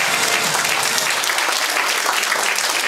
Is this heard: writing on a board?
no